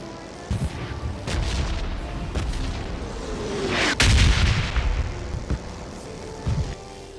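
Gunfire and booming shots from a mobile battle royale game ring out as a series of sharp, scattered bursts over a low rumbling background, with one especially loud crack near the middle.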